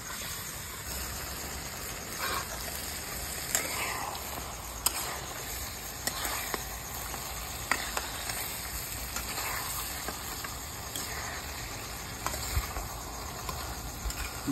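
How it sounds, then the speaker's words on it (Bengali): Chicken is poured into a hot pan of gravy and fries alongside kabuli chickpeas, giving a steady close sizzle with scattered crackles and stirring scrapes throughout. "এভাবে চিকেনটা ঢেলে দিচ্ছি।"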